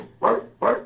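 A dog in a Robinson Crusoe audio drama, found near a ship's pilot house after a storm, gives two sharp, close barks about half a second apart.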